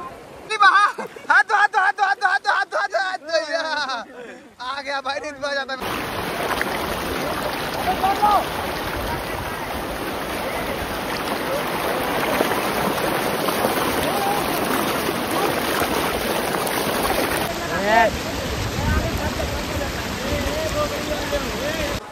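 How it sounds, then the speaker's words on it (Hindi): Strong, fast-flowing water rushing over rocks at a hidden waterfall, a steady loud roar filling the clip after a few seconds of people talking, with talk continuing intermittently over it. "पानी का बहाव तेज है"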